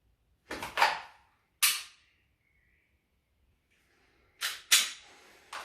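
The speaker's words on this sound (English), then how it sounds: "I always want to make sure when I pull the trigger that my front side doesn't dip." Dry-fire practice with an unloaded handgun produces a few sharp, close mechanical clicks and snaps, grouped in two clusters with silence between them.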